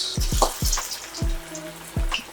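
Marinated fish pieces are lowered into hot oil for a Hyderabadi-style fry, each one setting off a sharp, close splash and sizzle, about five in quick succession.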